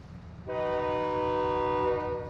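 A train rolls by in the Call of Duty DMZ video game, set in Al Mazrah, starting at about half a second with a loud, sustained horn-like tonal drone layered over low rumbling that stays steady to the end.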